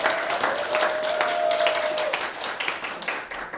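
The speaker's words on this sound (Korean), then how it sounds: "큰 박수 부탁드립니다" Audience applause at a Rotary district conference: a short burst of lively clapping from a crowd, with a brief electronic tone sounding over it.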